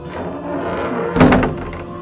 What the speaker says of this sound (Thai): ก็มีเสียงเปิดประตูอีกแล้วครับ